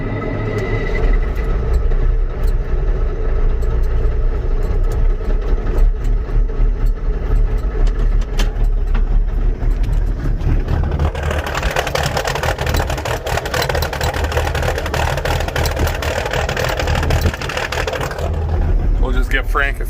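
A Case 895 backhoe engine idles steadily as it warms up, a low continuous diesel rumble close by, with a brighter, rougher texture in the second half.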